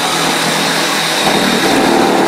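A Milwaukee reciprocating saw fitted with a standard Sawzall blade runs steadily and loudly up close, a continuous buzzing motor drone that rises slightly in intensity partway through, with no talking over it.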